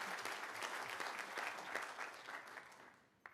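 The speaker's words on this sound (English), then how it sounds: "I think that's worthy of applause." A university reunion crowd gives warm applause for the class of 27, a dense, even clatter of many hands that gradually tapers off, ending in one last close clap.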